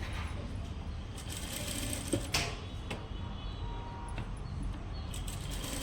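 A sewing machine runs steadily, stitching a boat-neck blouse, giving a continuous close whirring hum with a couple of faint clicks midway and no talk.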